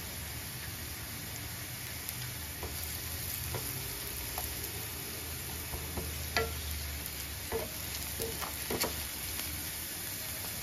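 Mashed tomatoes stirred into a frying bitter gourd curry, a steady low sizzle with scattered clicks and scrapes of the spoon against the pan, fairly quiet and without talk.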